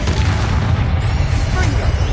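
A Confringo fire spell explodes in the Hogwarts Legacy video game, a loud, deep rumbling boom that fills the short stretch with continuous low-end roar.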